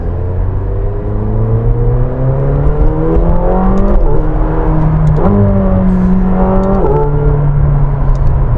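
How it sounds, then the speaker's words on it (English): Turbocharged McLaren 720S engine droning steadily and close, with rising gear-by-gear pitch sweeps as it accelerates and shifts several times, loud throughout with no talk over it. "Feels like a turbocharged car. It's not like a Porsche, but it's not a bad sound."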